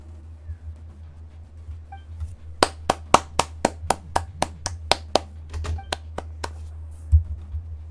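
Clapping in the video game Genshin Impact: a run of about fifteen sharp, close single hand claps in an uneven rhythm over a low hum, with faint voices before it.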